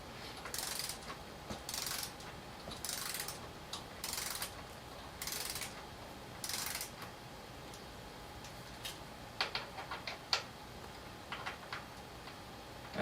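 A wrench turns a Loctite-coated bolt on a Talaria R MX4 electric dirt bike, producing a series of short ratcheting bursts at a steady, unhurried rhythm, close but fairly quiet, followed by softer scattered clicks.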